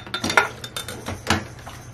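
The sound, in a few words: adding mote (hominy) into a blender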